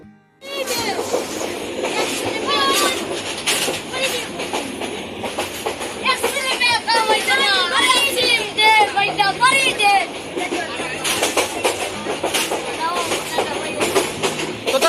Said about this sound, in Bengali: অনেক অনেক বেগে ছুটতে থাকলো প্রিয় পারাবত এক্সপ্রেস